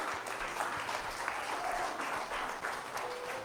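A church congregation applauds the Lord in a steady, dense wash of clapping that holds at even loudness throughout, with no clear voices above it.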